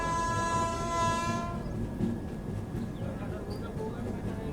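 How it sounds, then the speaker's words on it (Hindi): Mangala Lakshadweep Express train at a crossing, a steady loud rumble of passing rail cars with a sustained horn tone fading out early, voices faintly audible beneath the continuous roar. "तो चलिए आपको दिखाते हैं मंगला एक्सप्रेस की क्रॉसिंग"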